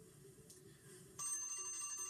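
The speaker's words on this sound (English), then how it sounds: "The two-minute time limit for public comment is strongly enforced by the bell." A bell marking the end of a two-minute public comment limit at a public meeting, a sustained tonal ringing that grows louder partway through, short and alone without talk.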